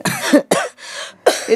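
A person coughs three times in close succession, each cough loud, near and harsh, with a brief throat-clearing between them.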